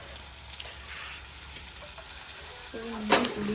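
Ginger garlic paste frying in hot oil for a Tamil chicken varuval, a steady close sizzle with stirring scrapes and a brief louder flare of spitting near the end.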